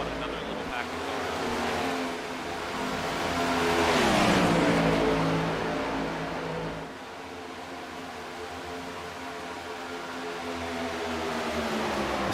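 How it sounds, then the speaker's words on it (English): Stock cars race at Daytona International Speedway in iRacing, engines droning loud and steady as a pack swells past around the middle and fades, followed by a continuing engine hum, with a voice talking over it. "Coming up on another little pack of cars."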